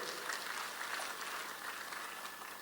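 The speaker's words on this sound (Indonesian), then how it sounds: "Yang setuju berikan tepuk tangan yang meriah buat Tuhan." A church congregation claps for God during a sermon, a fairly faint but continuous wash of many hands with no talk on top.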